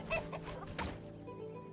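A bird in a video game clucks like a chicken, giving a few quick, close clucks over low game background that then fades.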